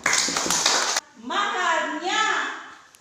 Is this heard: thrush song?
no